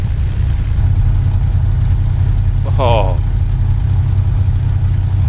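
A P-51D Mustang's piston engine idles in a flight sim with the Echo 19 audio pack, a loud, steady low rumble with a rough, knocking pulse; someone briefly speaks over it.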